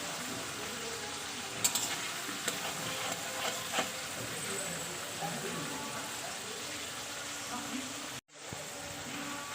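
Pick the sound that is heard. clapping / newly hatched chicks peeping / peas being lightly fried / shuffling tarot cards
peas being lightly fried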